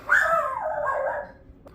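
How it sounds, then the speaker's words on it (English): A dog gives a single drawn-out, whining bark or yelp, moderately distant and alone, fading out after about a second. "Damn dogs."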